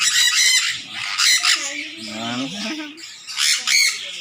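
A green-cheeked conure parrot squawking up close, loud harsh repeated calls in several bursts with brief pauses between them.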